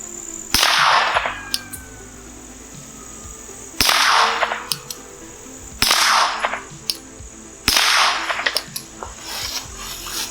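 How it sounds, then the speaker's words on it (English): Glock 17 pistol fitted with a Flux Defense brace, fired four times at a slow, irregular pace, each loud sharp crack followed by a short ringing decay. "Let's try and shoot this actually as a pistol."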